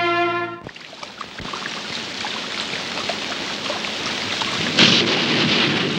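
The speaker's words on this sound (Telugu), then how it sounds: "ఇదేం వానబ్బా ఆగట్లేదు" Heavy rain pours in a steady, dense hiss while thunder rumbles and cracks close by, with a loud burst near the end, no voices over the downpour.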